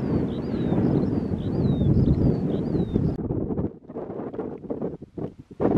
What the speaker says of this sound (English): Bit windy though.